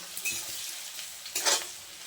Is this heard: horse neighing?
no